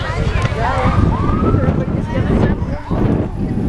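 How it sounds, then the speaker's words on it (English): An ambulance siren wails in the distance beneath strong wind rumble at a street parade, its rising and falling tone faint but continuous. "they're just clearing the way for the ambulance to go through"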